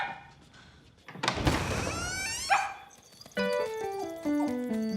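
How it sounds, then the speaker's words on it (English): A small dog barks sharply in a short burst, then musical tones follow, all fairly quiet. "We can't sleep with all that barking going on."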